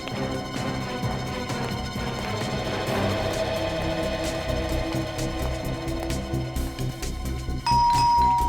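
A doorbell chimes inside a house, its bright ding-dong tones rising clearly near the end above a steady bed of dramatic background music.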